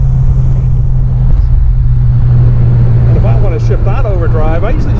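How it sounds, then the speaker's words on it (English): The engine of a 1959 Austin Healey 100-6 drones steadily and loudly from inside the car while accelerating to shift out of overdrive. Someone talks over the latter half. "if I want to shift out overdrive, I usually just give it a little bit of acceleration"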